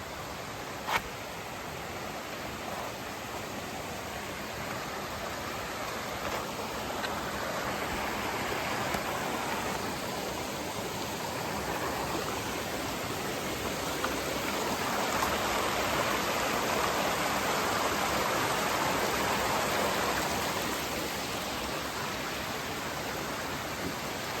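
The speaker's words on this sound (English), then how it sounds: "we got our first river crossing" A mountain stream rushes steadily at a river crossing on a hiking trail, a continuous broadband wash of water that swells slightly in the middle, close and unbroken with no voices.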